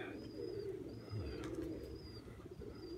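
Pigeons coo softly and repeatedly in a low, rolling rhythm close by, with thin faint chirps and a little background noise around them.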